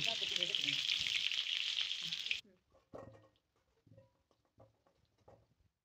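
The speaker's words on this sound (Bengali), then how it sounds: "এবার কড়াইতে তেল দিয়ে আলুগুলো একটু হালকাভাবে ভেজে নিয়ে তুলে নেব" Potato pieces fry in hot oil in a kadai, giving a loud, dense sizzle for about two seconds that then cuts out, leaving faint scattered pops and taps of the pan.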